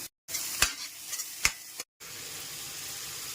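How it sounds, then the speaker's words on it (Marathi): Mushrooms shallow frying in a pan with a pinch of salt, a close steady sizzle broken by two sharp utensil scrapes and two brief silent gaps. "इकडे मशरूम छान शालो फ्राय होत आहे"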